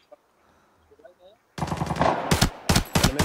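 In the mobile game Arena Breakout, after a quiet start, loud rapid bursts of automatic gunfire erupt close by, coming in rattling volleys with brief gaps between them.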